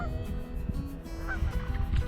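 Geese honk repeatedly at an island shoreline, with several loud, overlapping calls close by and no voices.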